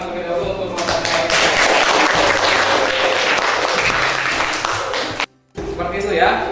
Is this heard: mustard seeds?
no